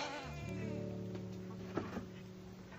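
A dairy goat at a milking stand gives a drawn-out bleat up close, followed by a couple of small knocks, with no talk.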